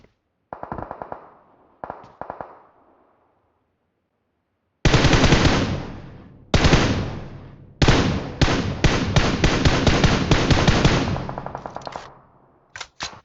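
Gunfire in PUBG Mobile: a few short bursts early on, then a long stretch of loud, rapid automatic fire in repeated volleys, close and dominant, with brief pauses between strings of shots.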